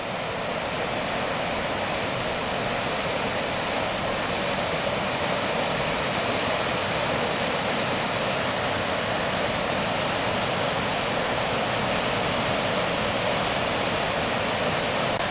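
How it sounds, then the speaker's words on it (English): Thornton Force waterfall on the Ingleton Waterfalls Trail in the Yorkshire Dales, a loud continuous roar of falling water heard close by with no letup. "Waterfall here."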